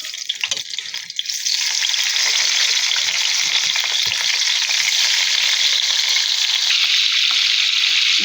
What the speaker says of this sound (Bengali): সেই তেলেই ডিমটা হালকা ভেজে নিব